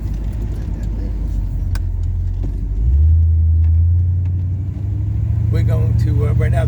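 A car fitted with a shift kit and cowl hood drives along a country road, its engine droning loudly, then dropping into a deeper, stronger rumble as it pulls and shifts.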